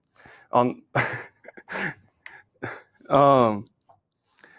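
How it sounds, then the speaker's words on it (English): Buzzy, nasal kazoo tones hummed in short bursts, several brief notes and one longer held note, close and fairly loud. "And that's the sound of the kazoo."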